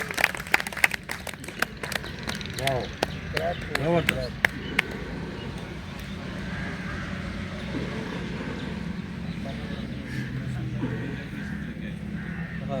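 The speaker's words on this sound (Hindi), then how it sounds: "तालियां जी, तालियां, माशाल्लाह, जबरदस्त जबरदस्त, बहुत अच्छी।" Scattered clapping from a yoga class in an outdoor park rings out for about five seconds as a few sharp, uneven claps. Someone talks over it, then talk and quiet outdoor ambience continue.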